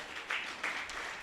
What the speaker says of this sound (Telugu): గట్టిగా చప్పట్లు కొడదామా?